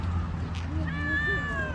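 A cat meows a couple of times in a park, rising and falling tones close by, over low background hum.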